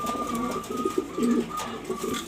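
Two young pigeons coo in short, low, throaty bursts that repeat unevenly, close up, over a faint steady background hum.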